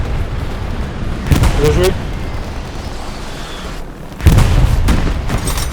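Artillery shells exploding in the World War II shooter Hell Let Loose, two heavy booming blasts a few seconds apart, each with a sharp crack and rumbling tail, while players talk briefly over team voice chat.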